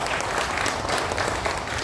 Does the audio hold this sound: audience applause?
yes